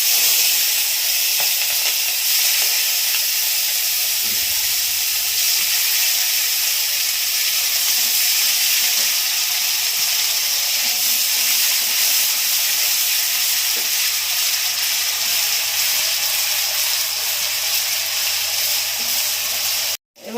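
Onion paste and slit green chillies sizzle in hot oil spiced with nigella seeds, a loud, continuous frying hiss that holds steady throughout with no talking.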